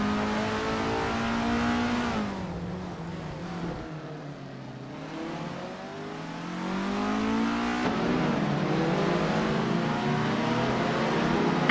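Race cars from a historic series, including a late-1970s Avia, accelerate in a tightly bunched pack toward a corner, engines revving and shifting pitch continuously, loud and close throughout with no voices.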